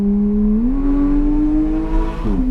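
A car throttles up on a race track, its engine drone climbing in pitch, holding steady, then shifting again near the end, close and prominent.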